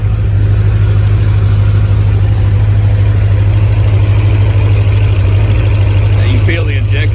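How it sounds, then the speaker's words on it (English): A Paxton-supercharged Corvette ZZ3 5.7 TPI engine with Edelbrock High Flo parts idles steadily on its first start, a loud continuous low rumble with a fast ticking from batch-fired injectors running throughout. "Feel the injector tick right there."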